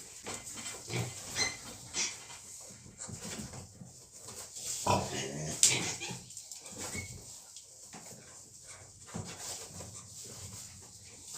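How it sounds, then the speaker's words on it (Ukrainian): Pigs squeal and a dog barks on a farm during a sow's farrowing, with the dog indoors in a kitchen; the cries come repeatedly and unevenly in noisy bursts for several seconds. "Свині тут кричать, собача там в кухні кричить"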